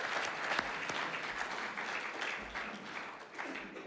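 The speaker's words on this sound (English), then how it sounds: "Let's give Luke a round of applause." Audience applause for a speaker named Luke at a talk on Christians and their nation, steady dense clapping from a crowd filling the whole few seconds, fairly close and even in loudness.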